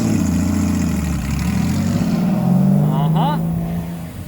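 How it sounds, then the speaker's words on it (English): A Honda Valkyrie motorcycle rides past outside a shop, its deep engine drone swelling louder midway and then easing off, with a brief voice over it near the end. "Oh, there goes Frank on the Valkyrie. Oh, would you just listen to it?"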